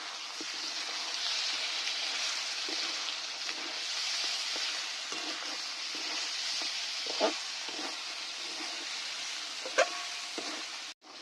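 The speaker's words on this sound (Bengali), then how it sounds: "এবার ধনে গুঁড়ো দিয়ে দিচ্ছি। সঙ্গে নেড়ে ভালো করে সব মিশিয়ে নিচ্ছি।" Chicken masala with coriander powder stirred in a pan, a soft steady sizzle with scattered scrapes and taps of a spatula, fairly quiet and close, no voices.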